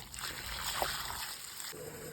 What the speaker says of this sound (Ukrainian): Миємо портулак під проточною водою.